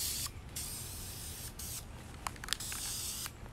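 Spray paint hisses from an aerosol can onto a sweatshirt in several short bursts separated by brief pauses, with a few small clicks and taps from handling the can between sprays, close and moderately quiet.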